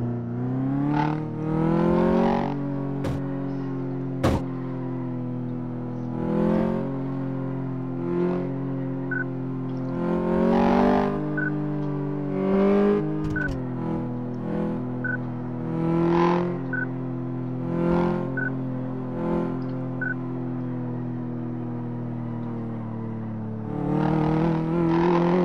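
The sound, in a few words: car engine and driving in video game Car Mechanic Simulator 2014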